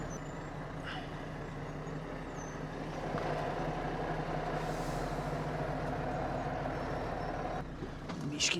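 A truck rolling slowly over sand, its engine droning steadily and close inside the cab, growing slightly louder midway, with a few faint clicks and knocks near the end.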